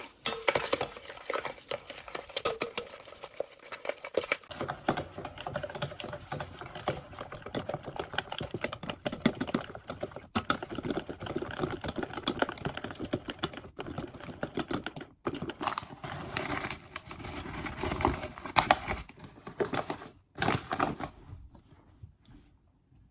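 Eggs, oil and sugar for a chocolate banana cake are mixed in a bowl, giving close, rapid, continuous clicking and tapping whisk strokes with brief pauses. No one speaks.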